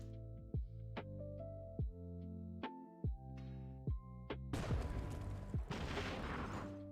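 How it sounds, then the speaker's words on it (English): Hand cannon gunfire in a PC video game, a series of sharp, loud single shots spaced roughly every half second to second, then a denser burst of crackling fire near the end, with no talk over it. "Hand cannon."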